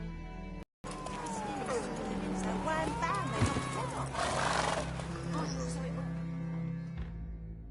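Roach, Geralt's horse in the video game The Witcher 3, whinnies and snorts with hooves clip-clopping beneath, close and clear, while someone speaks over the sounds.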